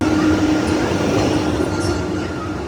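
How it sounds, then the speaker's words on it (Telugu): A passenger train arrives at a Kerala railway station after a long delay, with a continuous heavy rolling rumble and faint metallic squeals close by. "ఫైనల్ గా ఒక 2 అవర్స్ డిలే తర్వాత అయితే మన ట్రైన్ అయితే వచ్చేసింది"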